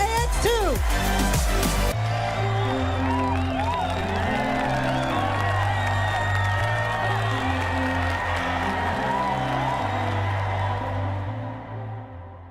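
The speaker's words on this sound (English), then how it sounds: "One more round of applause for our crew for the AX2 mission" Crowd cheering, whooping and applause for the AX2 space mission crew, loud and sustained with shouts over dense clapping, while a person talks over it; the noise tapers off near the end.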